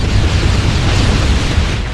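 Bombs explode in Halo Wars on Xbox One as a loud, continuous low roar of blasts that rumbles without pause from start to finish.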